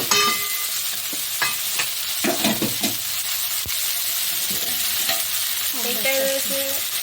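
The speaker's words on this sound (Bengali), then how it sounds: "এখানে একটা শাক ভাজা হচ্ছে এই শাকটার নাম হচ্ছে সজনে শাক" Drumstick leaves (sajne shak) frying in a pan, a loud continuous sizzle with scraping stirs throughout and a brief tonal clatter near the end.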